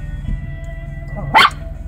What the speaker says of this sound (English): My dog just starts barking.